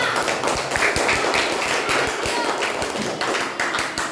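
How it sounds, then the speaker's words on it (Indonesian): Third-grade classroom clapping for a student group after its presentation, a quick run of crisp, evenly paced claps from many small hands with a voice faintly underneath. "Tepuk tangannya untuk kelompok 2"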